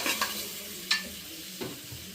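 Boiled eggs frying in a pan, with soft steady sizzle and a few brief stirring scrapes and clinks, close and alone without talk.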